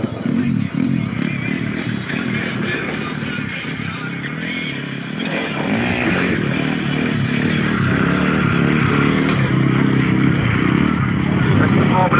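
A stunt motorcycle rides through an arena at a live daredevil show, its engine droning loudly and steadily and swelling toward the end, with crowd noise and clatter mixed in.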